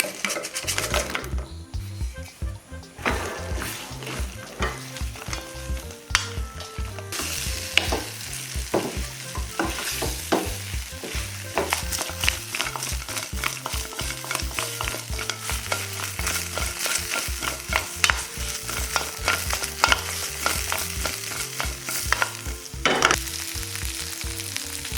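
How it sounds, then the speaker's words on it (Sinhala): Chicken pieces fry in a pan of lime sauce and are stirred, giving a continuous loud sizzle broken by repeated scrapes and clinks of a utensil against the metal pan; nobody speaks. "දැන් මම මේකට බෙදගත්ත චිකන් කැවුල් ටික එකතු කරගන්නවා."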